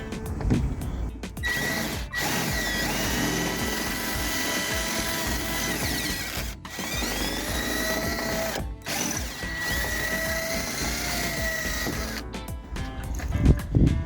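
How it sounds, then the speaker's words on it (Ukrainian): A power drill with a 7 mm bit drills out the rivets holding the door card on a Skoda Octavia A5 front door, a steady close whine with brief pauses and shifting pitch as each rivet gives way. "сверло беремо на 7. І починаємо"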